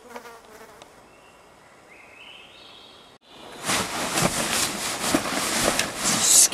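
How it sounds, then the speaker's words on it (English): Swarming mosquitoes near a swamp in coastal wilderness, a fine high whine at first, then a dense, louder buzzing of many insects that swells and flutters close to the ear. "Thousands of mosquitoes everywhere."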